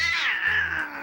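A kitten and a black cat fighting, giving one loud, close, drawn-out caterwauling yowl that rises and then fades over about a second.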